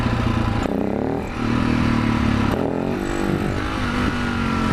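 A supermoto motorcycle engine runs loud and steady while riding, its pitch shifting and revving up as the bike accelerates through gears, with wind rush throughout.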